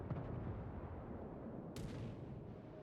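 Naval gunfire during a World of Warships battle with a French tier 8 cruiser, the Charles Martel: a deep, rumbling boom and heavy low roar at low volume, with one sharp burst partway through.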